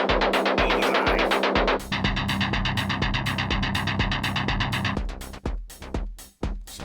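A Roland SH-4D synthesizer arpeggiator through an overdrive effect plays a loud, rhythmic pulsing synth pattern of gritty, evenly spaced notes that changes texture partway through and briefly drops out near the end.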